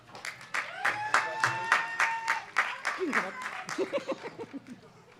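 A cheering section at an undergraduate commencement claps rhythmically as a graduate is named, with whoops and bright shouted cheers rising over the applause before it breaks into scattered claps and chatter.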